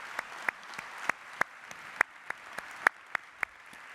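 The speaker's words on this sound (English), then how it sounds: "let's give them a loud round of applause for being here this morning" Sparse applause from a morning audience at a hospice memorial baseball event, with individual claps ringing out in a loose, uneven rhythm at a moderate distance rather than a full ovation.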